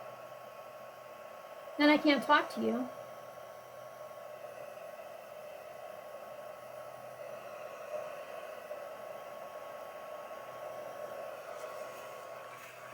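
A steady whooshing heat tool blower hums throughout at moderate volume, drying watercolored paper, with a brief burst of speech near the start riding over the constant airflow.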